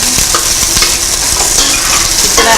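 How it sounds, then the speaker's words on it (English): Onion frying in a pot for dhal while being stirred: a steady, close hiss of sizzling oil broken by soft scraping strokes of a spoon, with no voices. "She's going to add onion to that. Okay. That just needs to cook a bit."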